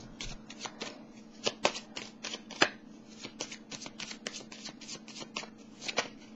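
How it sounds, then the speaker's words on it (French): Tarot cards being shuffled and drawn, with a quick run of crisp riffling flicks and sharper snaps at an even, brisk rhythm, close and clear over a faint steady hum, with no talking. "Là, je vais piger une petite carte pour la carte de la sagesse."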